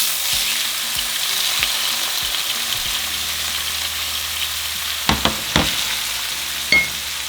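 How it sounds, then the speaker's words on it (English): Onions, tomatoes and chiles frying in hot oil give a steady, dense sizzle, broken near the end by a few sharp clacks of stirring, with no one speaking. "once our oil is hot, we're going to throw everything in"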